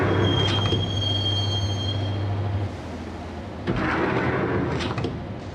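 A train in the video game Max Payne rides into Roscoe Street Station, a continuous loud rumble of rolling wheels with a steady low hum, a high squeal early on and louder clattering bursts toward the end.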